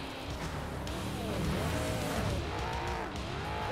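A car drives in the video game Carmageddon: Reincarnation, its engine droning steadily with rising and falling revs and a hint of tyre scrub throughout, loud and close with no other sounds.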